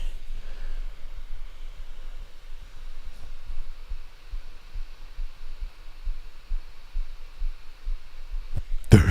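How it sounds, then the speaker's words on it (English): A steady, muffled heartbeat thuds at an even pace throughout a tense moment in the sci-fi horror video game The Callisto Protocol, low and close over a faint background hum, with a sharp noise at the very end. "can you hear the heartbeat?"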